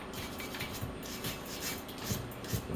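Brake pad clips from a Nissan Rogue's front brakes are scrubbed clean, a close, steady rasping and rubbing of repeated strokes with no voices.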